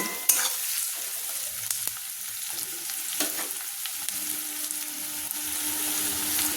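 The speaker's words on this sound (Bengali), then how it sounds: "পেঁয়াজ আর রসুনটাকে একটু ভেজে নিচ্ছি।" Sliced onion and garlic sizzle gently in hot oil in a pan, lightly fried for a cabbage dish, with a constant crackle and occasional stirring scrapes.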